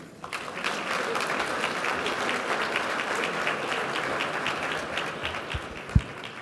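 Audience applause welcoming Luis Alberto Moreno at a leadership dialogue event fills the room, a steady patter of many hands clapping at moderate volume, ending with a sharp thump.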